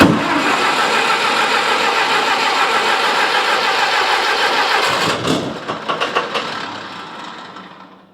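An old Lindsay air compressor engine runs loud and close, then sputters through a few uneven coughing beats and winds down to quiet, with no voices.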